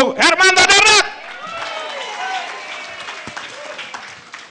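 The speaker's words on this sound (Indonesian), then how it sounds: "Tepuk tangan dulu dong untuk Hermanto Dardak" An audience at the Malam ITB KITA event applauds Hermanto Dardak. A voice speaks briefly at first, then moderate, steady clapping fills the room and slowly thins out.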